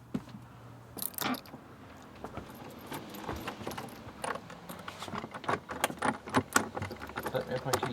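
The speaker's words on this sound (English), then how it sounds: "Let me have my keys." Keys jangling close by in bursts of metallic clinks and rattles that grow busier toward the end, handled while preparing to move a boat, with brief talk in the background.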